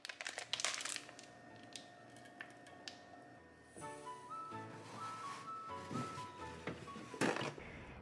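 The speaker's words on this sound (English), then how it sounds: "Then we just have to peel the plastic open" Plastic packaging on a block of tofu crinkles and crackles as it is peeled open close by, with sharp bursts at the start and end and softer rustling in between.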